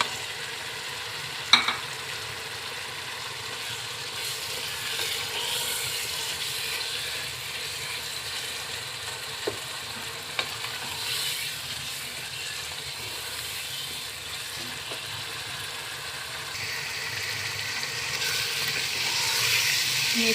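Fenugreek leaves are stirred into a turnip masala frying in a pan. There is a soft steady sizzle with occasional scraping clicks of the spoon against the pan, close and quiet, with no talking.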